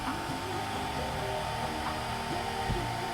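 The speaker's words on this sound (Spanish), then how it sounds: "nos hemos podido ayudar de un secador de pelo" Hair dryer blowing hot air steadily to melt ice in a freezer, a continuous loud whooshing drone with a motor hum, close and uninterrupted throughout.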